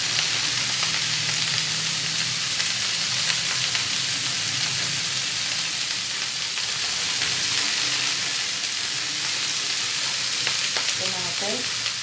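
Tikka boti meat pieces and vegetable boti cooking on a hot surface, giving a loud, continuous sizzle with faint background noise throughout.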